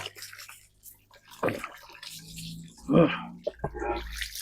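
Water splashes and trickles as a khanom khrok pan is rinsed, giving intermittent swishing and dripping bursts nearby, with some soft voice sounds mixed in.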